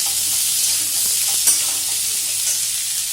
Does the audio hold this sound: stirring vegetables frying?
yes